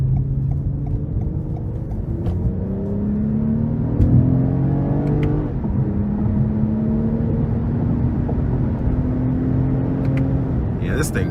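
A 2023 Toyota Camry TRD V6 heard from inside under throttle, engine pitch climbing steadily through the gears with a continuous rumble, while a person talks over it.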